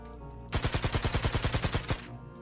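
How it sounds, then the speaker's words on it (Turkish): Rapid burst of about a dozen evenly spaced gunshots from a Minecraft gun mod, loud and close, lasting around a second and a half with no talking over it. "ona sadece silahla vurabiliyorum"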